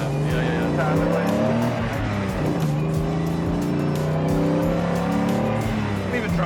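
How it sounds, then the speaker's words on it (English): A Bugatti Veyron driven hard: a loud, continuous engine drone close up, pitch climbing and shifting through gears over a gritty rumble, with people talking over it. "I'm even driving it in anger a little bit here."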